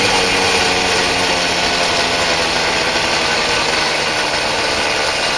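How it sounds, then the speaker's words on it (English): The Lil' Red Devil engine, fitted with a new muffler suppressor, runs steadily at a constant buzzing, droning pitch. It stays close and loud for the whole stretch with no other sounds. "ever since I put on this new muffler suppressor, the engine's breathing a whole lot better now"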